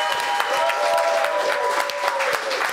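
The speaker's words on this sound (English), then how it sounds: "Please give this guy a round of applause for..." An audience at a TEDx talk breaks into sustained applause, dense clapping from a crowd filling the room, with a few sharper nearby claps and a faint tone running underneath.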